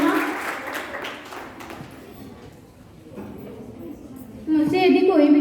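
Applause from an audience at a school gathering after a Hindi song performance, crowd clapping with broadband noise, dipping midway and then swelling louder toward the end, with some talk and a voice beneath it.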